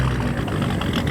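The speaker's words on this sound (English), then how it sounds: "Take a listen to this E30. It's a twin-turbo V8, rose gold turbos, and the exposed engine." A modified BMW E30 with an exposed twin-turbo V8 and rose gold turbos rumbles loudly at a car show, a deep, close engine roar throughout the short moment.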